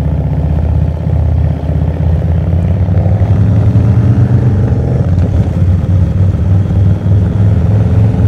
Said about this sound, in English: See if we can get some good bike audio